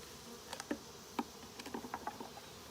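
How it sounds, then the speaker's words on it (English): Bees buzz in short, scattered bursts around a hive, a few separate wings passing close, over a quiet background hum. "which I don't know if you can hear, but it did not make the bees happy"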